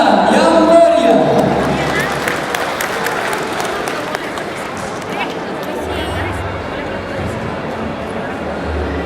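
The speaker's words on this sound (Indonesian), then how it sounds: "berikan tepuk tangan yang meriah" Guests at a wedding reception in a Jakarta hall applaud amid crowd chatter and music, the clapping strongest at the start and then settling into a busy, steady background of voices.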